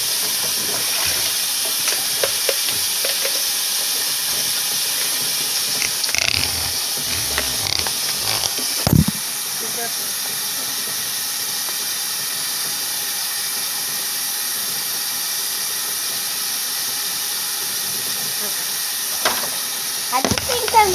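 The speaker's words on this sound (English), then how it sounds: "Right now, I am washing Emmanuel's bottles so that I can start cooking dinner." Baby bottles washed at a kitchen sink: a steady, loud hiss of running tap water continues throughout, with scattered clinks and bumps of bottles and dishes near the start and end.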